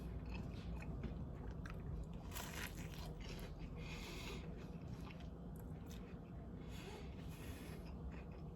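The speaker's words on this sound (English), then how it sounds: "Y'all hear that crunch in that taco?" Crunchy bites and chewing on a Taco Bell Chalupa Supreme, close and continuous, with crisp crackling shell sounds over a low steady background.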